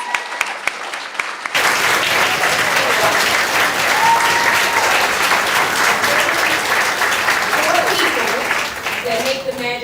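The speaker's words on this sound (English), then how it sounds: "Round of applause, yes." After a brief moment of quiet, an audience at an awards ceremony bursts into loud, sustained applause that continues steadily, with a voice speaking near the end.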